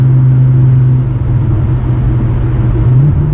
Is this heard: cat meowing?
no